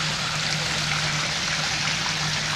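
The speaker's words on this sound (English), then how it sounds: "After I made this stream" A homemade garden pond stream with a rebuilt waterfall trickles and splashes steadily, a continuous close wash of flowing water over a faint low pump hum.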